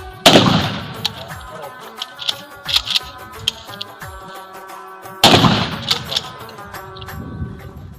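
Rifle shots ring out at an outdoor shooting practice, two loud sharp cracks about five seconds apart, each with a rolling echo, amid smaller clicks and handling knocks.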